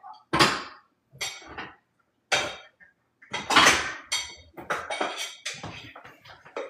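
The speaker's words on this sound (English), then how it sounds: "let me serve up this food real quick" Food served from a pot of dirty rice, a series of loud close metal spoon scrapes and clanks against the pot in uneven bursts with short pauses between.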